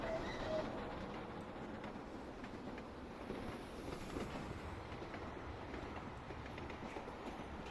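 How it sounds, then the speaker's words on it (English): A train of Mark 1 coaches passes on a mainline in Train Simulator 2022, giving a steady, close rolling rumble with wheel clatter and no voices. "Now we've got another train coming the other way."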